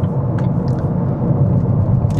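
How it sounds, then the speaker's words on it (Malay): Steady low engine drone and road rumble inside a Proton car moving on a highway, with a constant wind-like hiss and a few faint ticks. "mungkin bunyi angin lah dan bunyi enjin kereta Proton S17 ni."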